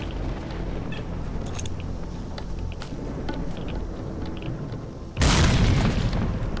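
Grenade blast in the shooter game STALKER: Call of Pripyat, a sudden loud boom bursting in near the end after a stretch of rumbling game ambience and faint clicks.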